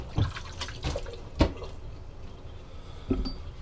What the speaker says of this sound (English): Wash my hands yet again.